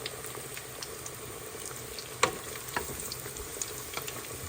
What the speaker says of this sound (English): I'm hearing a little bit of popping. That popping is some of the cheese that's coming out.